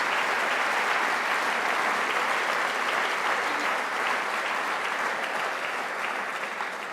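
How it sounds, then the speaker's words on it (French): Sustained applause from a large audience fills the Théâtre du Martelet in Saint-Maurice, steady and loud throughout, with no speech over it. "vous applaudit bien fort"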